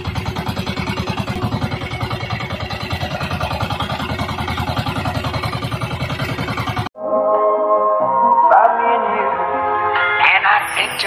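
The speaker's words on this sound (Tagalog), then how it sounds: "Di mo man pinatay yung makina." A boat engine runs steadily with a dense, throbbing mid-pitched drone, then cuts abruptly to a quieter, clattery background during a lobster-fishing trip near an island.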